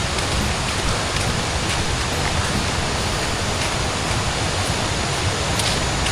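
Rain falls steadily in the rural Thai countryside near a rice field on a hot day, a dense, even hiss with no pauses, heard alone.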